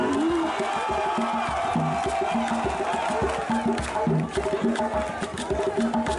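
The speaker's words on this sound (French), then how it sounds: "Acclamation" A festive evening ball crowd roars and cheers continuously, dense and loud, with shouting and a steady rhythmic beat underneath throughout.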